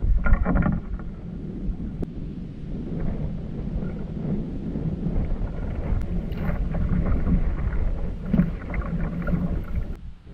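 Wind gusts on a lake during a wilderness canoe camping trip in the Sylvania Wilderness, a low, rumbling buffeting across the microphone that rises and falls steadily, with faint water and boat noises beneath.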